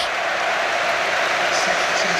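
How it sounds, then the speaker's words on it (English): Tottenham fans at a Premier League home match against Burnley applaud and roar to welcome back former Spurs player Marcus Edwards, a broad, continuous stadium wash of clapping and crowd noise heard from a distance. "much of the applause you can hear here is a welcome back to Spurs for Edwards"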